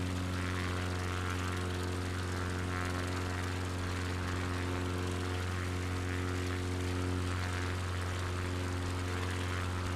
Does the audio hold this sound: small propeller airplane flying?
yes